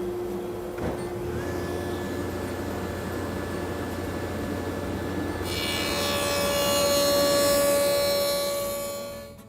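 A table saw fitted with a dado set hums steadily as it spins, then bites into a wooden workpiece halfway through, producing a louder, harsher rasping cut that lasts several seconds before fading.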